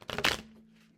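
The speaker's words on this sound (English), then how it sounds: "Let me just give this a little shuffle." Tarot cards being shuffled by hand, a short, close riffle lasting under half a second that then trails off into quiet.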